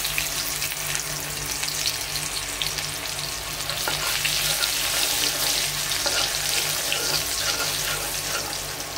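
Chopped onions hit hot oil with salt in a wok, giving a loud, continuous sizzle and crackle of frying that holds steady throughout.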